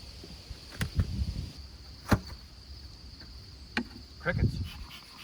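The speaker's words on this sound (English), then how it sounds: "there's like an infestation of crickets this year" A steady high-pitched cricket chirp drones throughout, with scattered clicks and thumps of handling nearby.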